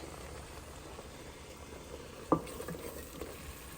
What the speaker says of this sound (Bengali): এদিকে ডিমগুলো সিদ্ধ হয়ে যাচ্ছে